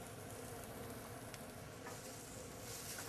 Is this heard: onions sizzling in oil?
yes